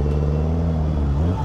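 Suzuki Hayabusa motorcycle engine held at a steady, loud throttle during a Durga Puja street outing, a deep continuous rumble with strong low harmonics and no voices over it.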